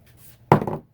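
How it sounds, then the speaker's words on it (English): A handheld paper punch snaps once through cardstock, cutting out a small half-apple shape: a single sharp crunch and brief rustle, close and fairly loud, with quiet before it. "you can actually cut out this little half apple with the punch as well"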